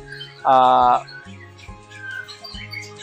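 Drongo (Sri Gunting) song as a master recording for training magpie robins, with a loud squawking burst followed by quieter varied chirps and whistles over a faint harmonic background.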